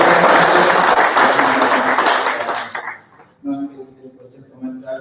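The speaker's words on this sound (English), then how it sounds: "Please give a round of applause." Audience applause for a speaker at a microservices and serverless talk, a dense, loud burst of clapping that fades after about three seconds before a voice starts speaking.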